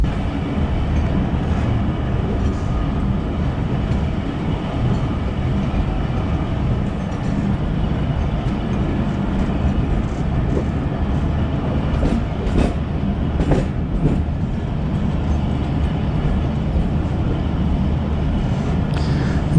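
The Pakistan Express, hauled by a GEU40 diesel locomotive, runs at about 102 km/h, giving a loud, continuous rumble and roar with rattling carriages and occasional sharp clicks from wheels on the track.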